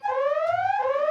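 An alarm sounding in a radio studio during a live morning show, a loud sustained electronic tone with a slowly rising pitch and a brief reset near the end, heard alone.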